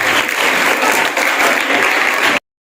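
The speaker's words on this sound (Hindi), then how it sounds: "जोरदार तालियां बच्चों के लिए।" Loud, sustained applause from an audience at a Christmas program and drama, a dense steady clapping wash for children that lasts about two seconds and then cuts off abruptly into silence.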